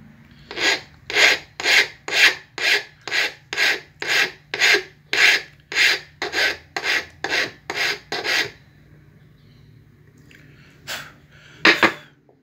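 A metal file rasps a lamina in about eighteen regular close strokes, each a harsh scraping burst, followed by a quiet gap and two final isolated strokes.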